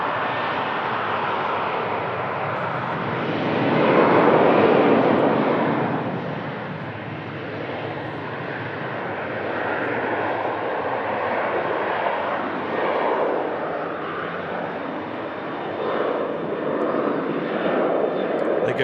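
A SunExpress Boeing 737 takes off on runway 23 left, a broad roaring engine swell that peaks early then settles into a long steady rumble, with someone talking over it throughout.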